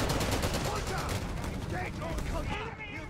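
Flak gunfire in the real-time strategy game Company of Heroes 3, dense continuous battle noise with rapid repeated shots throughout, under a caster's narration.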